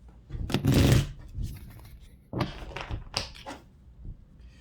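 Cards are shuffled in quick riffling bursts, a long rustling flurry followed by several shorter snaps and taps, close up.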